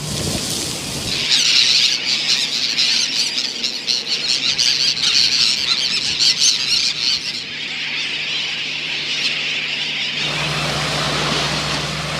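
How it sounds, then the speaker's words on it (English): Many seabirds squawk and squeal over a coral sand cay in continuous, busy overlapping calls, loud and close with a steady background hum beneath. "The coral waters sparkle, and the sand cay is alive with birds."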